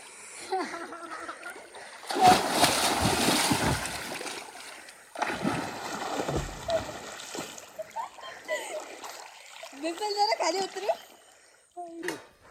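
People jump into deep water at a village dam in Konkan, producing two heavy, long splashes a few seconds apart, with voices talking and calling before and after.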